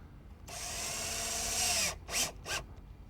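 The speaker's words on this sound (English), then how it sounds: "use a drill with a screwdriver bit to attach the brackets" A cordless drill with a screwdriver bit drives screws into fence brackets, one sustained whirring run of about a second and a half, then two short bursts, close and clear with no talk.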